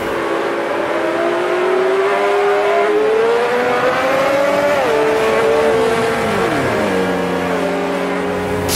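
A 1971 race car on the Nordschleife in a racing video game loses grip and spins out. The engine wails loud and constant, its pitch swinging up and down with tire scrubbing as the car slides around, and there is no talk.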